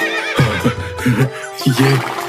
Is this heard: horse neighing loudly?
yes